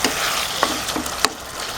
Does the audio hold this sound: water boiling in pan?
yes